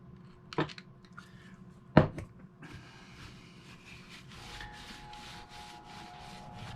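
A brush or swab scrubs dirt and grease off the pinion gear of a vintage Olympic ES 1M spinning reel, softened with penetrating oil. Two sharp knocks come early, then steady, close scratchy rubbing strokes.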